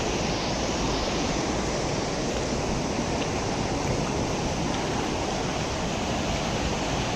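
Fast stream water rushes steadily along the Rishi Khola, a loud, unbroken wash of flowing current with no voices over it.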